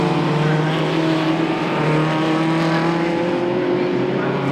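Racing cars at Silverstone in a Dunlop Tuscan Challenge race, a loud sustained engine roar with shifting pitch as cars power out of a corner near the pit lane exit, with commentary over it.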